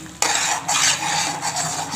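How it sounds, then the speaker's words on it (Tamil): A spoon scrapes and turns prawn fry masala seasoned with salt in a pan, a close, continuous stirring rasp with a faint sizzle that starts abruptly and carries on without talk. "உப்பு சேர்த்து நல்லா இந்த மசாலா கிளறி விடுங்க."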